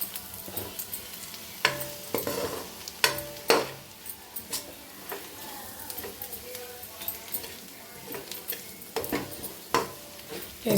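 A spoon stirs egg bhurji with coriander powder in a frying pan, giving scattered scraping clinks over a low sizzle. The strokes come in irregular bursts, close by, and no one speaks.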